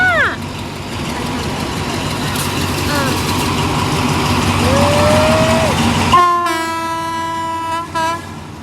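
A train rolls through Bang Sue station with a steady low rumble and squealing wheels, then its loud horn blasts near the end. People talk over the noise.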